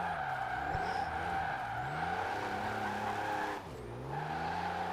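Diesel drift car in Forza Horizon 4 spinning its wheels, sustained tire squeal over a droning engine with shifting pitch, loud and close, a brief dip near the end before the squeal resumes.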